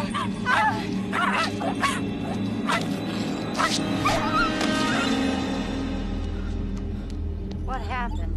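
A dog barks and whimpers in a tense domestic scene, yelps and whines recurring through a noisy mix with background tones and other voices.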